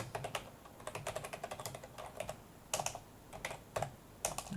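Fast clicking on a computer keyboard while writing C++ code, bursts of close, quiet keystrokes with brief pauses and no talk.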